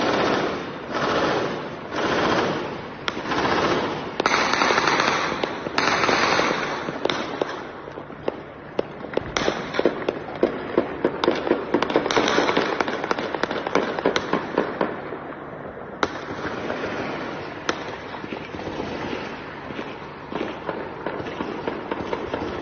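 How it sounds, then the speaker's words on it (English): Intense automatic gunfire in Erbil during an attack, sustained rapid bursts crackling continuously and loudly for over twenty seconds, with overlapping shots and echoing pops. "Let me play that again so you guys can hear this intense automatic fire."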